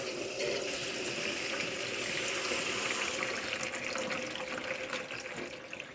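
Tap water runs steadily into a sink, a continuous splashing rush that stays even for several seconds.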